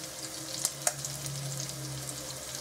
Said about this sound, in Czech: karbanátky se nám smaží